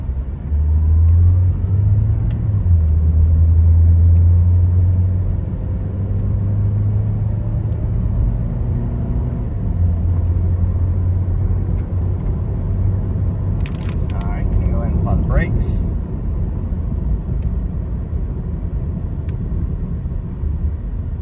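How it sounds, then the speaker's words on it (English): A 2012 Toyota Corolla rolls along on a test drive, giving a steady low road rumble and engine drone from inside the cabin, with a brief burst of clicks and rattles near the middle. "now we're gonna go ahead and take it on a quick test drive."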